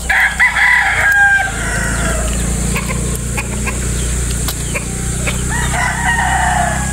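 A battle stag rooster crows loudly and close by, then breaks into repeated clucks, with a low rumble running underneath.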